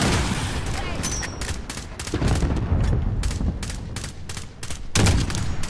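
Heavy gunfire in a video game shooter, dense rapid bursts that run almost continuously, loud and close, with a deep boom near the end.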